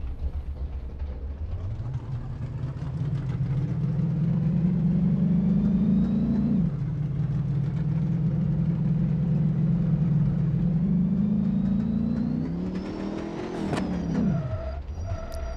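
A car engine in BeamNG.Drive, a Roadkill project build, revs up from idle and holds a steady drone while driving, then rises sharply and drops off near the end, with no talk.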